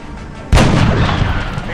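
A single loud gunshot from the XCOM Enemy Within strategy video game bursts out about halfway through and leaves a long, booming decay. The game's background sound plays faintly before it.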